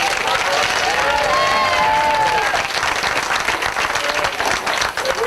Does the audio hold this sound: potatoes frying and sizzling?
no